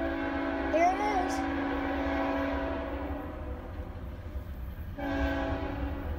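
A fast, long Norfolk Southern freight train on the Lake Erie main line rumbles past steadily, its horn blaring in sustained tones early on, with a loud burst of passing noise near the end.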